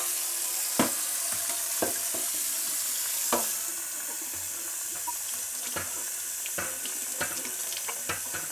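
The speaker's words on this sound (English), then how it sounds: "I'm gonna fill this up with water to take us over the 200" Tap water runs steadily into a yeast starter flask for beer brewing, a continuous hissing splash with occasional sharp clinks and knocks of glass scattered throughout.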